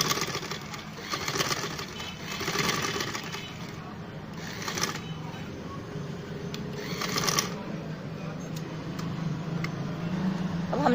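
A sewing machine stitches a strip of fabric for a child's jhabla frock in quick rattling bursts. Its rapid mechanical clatter comes and goes between pauses, close by, over a low background hum.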